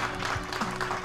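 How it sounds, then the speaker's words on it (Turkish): Guests at a celebration applaud, a short burst of moderately faint clapping from a small group, with no talk over it. "İkisi için büyük bir alkış rica ediyorum."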